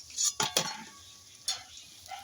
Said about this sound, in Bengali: এই পকোড়াগুলো ভাজা হয়ে গেছে তুলে নিচ্ছি আর আওয়াজ শুনে বুঝতে পারবেন কত মোচমোচে হয়েছে